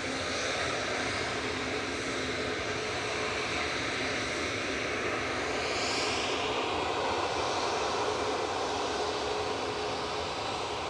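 Arriving from Inverness at Manchester Airport, a Loganair ATR 42 turboprop, registration G-LMRD, gives a loud, continuous engine roar with hissing broadband noise and a faint sweeping whine as it passes, with no voices.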